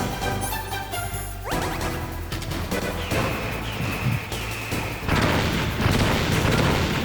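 Missile explosions in the Metal Gear Solid video game: a dense, continuous barrage of loud booms and crashing blasts, with a sharp new impact around the middle and a heavier burst near the end, no voices.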